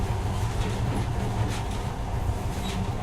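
Monorail train running on the secret Metro 2 line in the video game Metro Last Light, a steady low rumble and rattle of the carriage moving along the track, continuous and fairly loud with no talk.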